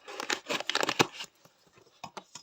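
Plastic packaging torn open and crinkled while unwrapping a plush toy sheep, with a quick burst of ripping and rustling followed by a few softer scattered crinkles, close up.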